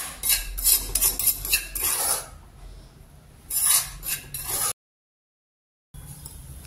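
Roasted Amrutham powder scraped and poured from a pan into a vessel, giving a close, gritty rasping and rubbing with light metallic clinks of a spoon against the pot, coming in bursts and then breaking off into a brief silence.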